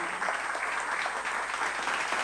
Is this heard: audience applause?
yes